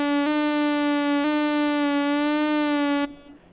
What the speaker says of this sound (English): It just sounds like a siren.